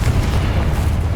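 A Confringo spell detonates in Hogwarts Legacy, a loud, deep, rumbling blast that fills the moment with heavy low-end boom and no voice over it.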